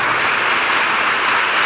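A congregation claps hands together in steady, dense applause that stays loud and even throughout, with no voices standing out.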